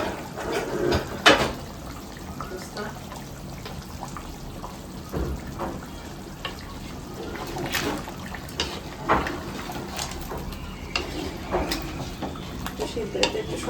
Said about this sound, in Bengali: তো মাংসটা আবার একটু নাড়াচাড়া দিব এখন